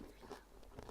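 Crunching bites of nachos cooked on a Land Rover engine, a few close, crisp crunches and chews in a short burst with no talk.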